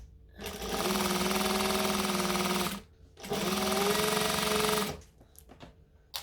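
A sewing machine runs a jacket seam in two sustained bursts of forward and back stitching, with a short pause between them and a few light clicks and handling noises afterward.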